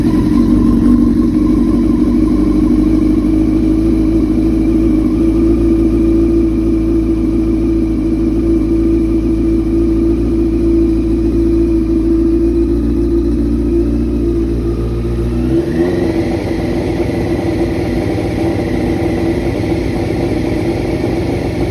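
A 2000 Yamaha R6 motorcycle engine idles steadily on full choke, a loud continuous drone that shifts to a rougher, slightly higher running note about two-thirds of the way through, with no talking.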